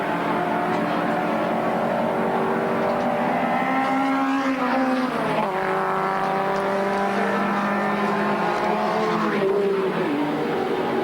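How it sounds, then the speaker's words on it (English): Touring race cars, including a Ford Sierra, roar loudly at the 1992 Bathurst 1000 as they haul onto Mountain Straight, with engine pitch rising and falling through gear changes across the whole clip. "The Park Parsons, Peter Jackson Sierra coming up behind Longhurst as they haul into Mountain Straight."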